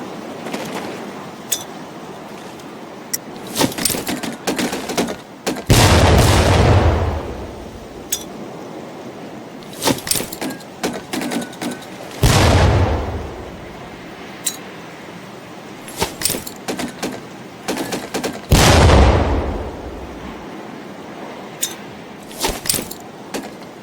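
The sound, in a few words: training grenades thrown and exploding in Medal of Honor video game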